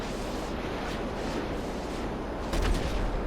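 Missiles launched and exploding in a GTA game, a dense, steady roar of blast noise filling the whole stretch, with a heavier burst near the end.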